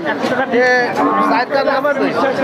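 Thin, bony cattle lowing close by amid a busy cattle market crowd, with overlapping moos and chatter filling the space.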